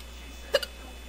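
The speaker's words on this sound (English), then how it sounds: "I get the hiccups really bad now." A single sharp hiccup pops out of near silence, followed by a softer catch a moment later, close and fairly quiet.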